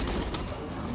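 A live green pigeon coos close by: a few soft, muffled low coo notes over a steady background hiss, with no talking.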